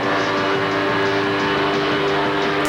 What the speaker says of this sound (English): There's something about the sound of a leaf blower that is particularly obnoxious.